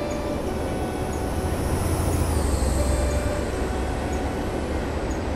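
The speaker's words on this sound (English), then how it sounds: "Oh, hello, Mr. Trainy Train." A train rolls past in Train Simulator 2018, a steady mid-loud rumble of wheels and carriages with a high whine that dips partway through.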